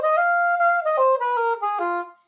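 Saxophone runs the blues scale with its flat third, flat fifth and flat seventh as a quick string of about seven clear, evenly spaced notes moving downward, solo and close, ending with a short fade.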